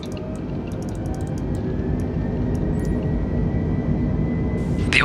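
Jetliner engines in Microsoft Flight Simulator 2020 spool up toward climb thrust, a loud continuous roar and rumble that builds gradually, with a brief high chime near the end.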